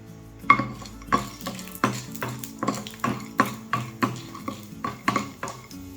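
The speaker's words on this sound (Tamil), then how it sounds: "எண்ணெயில் கடலைப்பருப்பு சேர்த்துக்கிறேன்" Chana dal in a little oil in a metal pan, with repeated rhythmic clinks and scrapes of a spatula roughly every half second over a soft sizzle, close up.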